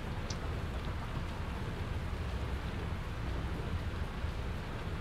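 Rain in the video game Satisfactory falls in a dense, steady patter, with a low rumbling undertone and no voices.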